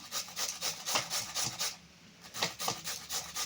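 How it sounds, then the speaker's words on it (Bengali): Ingredients being rubbed or grated by hand while cooking, a close, rhythmic series of rasping back-and-forth strokes with a short pause in the middle, fairly quiet and with no talking. "কীরকম করে ঘষছি সেটাকে দেখতেই পাচ্ছ কীভাবে ঘষছি"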